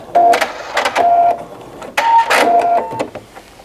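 A sewing machine stitches across the end of a fall oven mitt in several short, close mechanical bursts separated by brief pauses.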